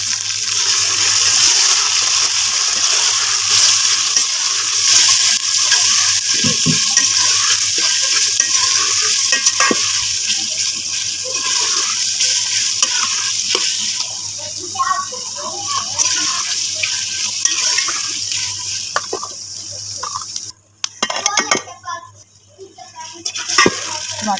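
Chicken stirred into a pan with garlic paste for haleem, sizzling and frying steadily with scraping stirs, close and loud, fading briefly near the end.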